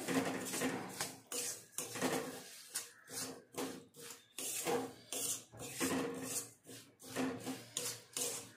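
Sesame seeds being stirred quickly into hot jaggery in a pan, a steady series of scraping, rubbing strokes of a spoon against the metal, repeated in a brisk rhythm with no talking.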